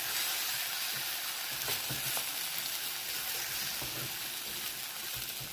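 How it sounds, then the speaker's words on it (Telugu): Softened tomatoes fry in a pan as spice powder is stirred through, making a constant loud sizzle with light scraping stirs and soft taps close by, no speech. "ఆ పౌడర్ వేసేయాలి. వేసి దీన్ని కలుపుకోవాలి."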